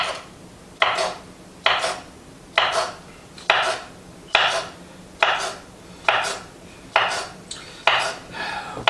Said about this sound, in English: We're going to slice it just like they say.